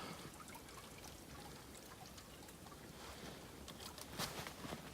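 Steady, gentle trickle of a small creek, continuous broadband water noise with no voices, fairly close and even throughout.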